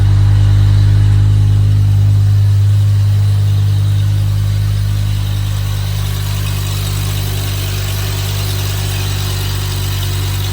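A BMW M6 V10 engine idling steadily up close, a loud, smooth low hum with a constant drone and no revving.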